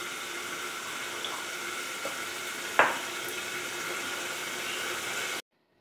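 Food fries in a home kitchen pan with a constant loud sizzle, broken by one sharp clatter midway before the sound cuts off abruptly; no one speaks.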